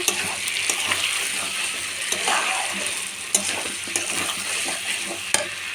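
Potatoes being sautéed with chicken scraps in a pan, a steady loud sizzle with the scrape and clack of a spatula stirring at irregular intervals, no voices.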